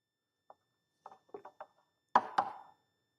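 A hose frozen rock-hard in very cold liquid is knocked, giving a few sharp, hard taps that get louder toward the end, close and isolated in silence.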